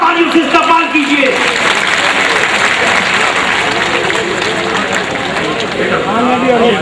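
A large audience at a community gathering or conference gives loud, sustained applause to welcome a guest, dense clapping running throughout with a voice speaking over it near the start and scattered crowd noise.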